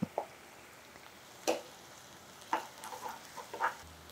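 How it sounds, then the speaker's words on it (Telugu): Onions, green chillies and curry leaves drop into hot oil for raw banana iguru, giving a quiet background sizzle punctuated by a few sharp clinks and scrapes of a spoon against the pan. "నూనె కాగిందండి. ఇదిగో ఉల్లిపాయలు, పచ్చిమిర్చి, కొంచెం కరివేపాకు వేసుకుందాం, అల్లం వెల్లుల్లి పేస్ట్"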